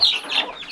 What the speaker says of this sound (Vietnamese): Giống gà để nuôi.